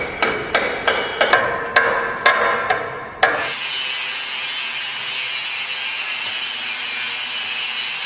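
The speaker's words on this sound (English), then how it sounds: "grinding the surface, so when he puts the other piece on top, it'll be clean to weld" A metal bracket on farm equipment is worked before welding: about ten sharp, evenly spaced metallic taps come first, then a steady harsh grinding noise runs on, close and loud.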